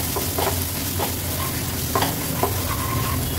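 Pabda fish cooking with masala in a lightly oiled pan, a constant close sizzle broken by a few sharp scraping strokes of a spatula, with no voices.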